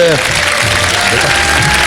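A studio audience at a Ramadan iftar television show applauds in a steady wash of clapping, with a voice speaking over it and lower tonal sounds underneath.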